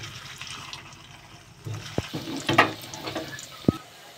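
Baby sweets frying in hot oil, a soft steady sizzle broken by sharp clinks and scrapes as pieces are stirred and lifted out.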